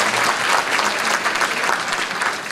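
Audience applause at a citizens' talk concert in Korea, a thick, continuous patter of many hands clapping at close range, steady and fairly loud throughout.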